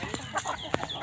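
Quiet, short clucking from a chicken, a few soft bursts over faint background noise.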